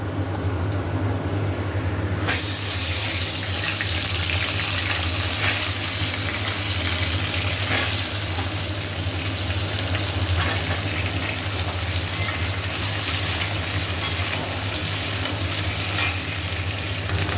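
Potatoes frying in hot oil with spices and bay leaf for an egg curry, an even, continuous sizzle with stirring scrapes over a low steady hum, no one speaking.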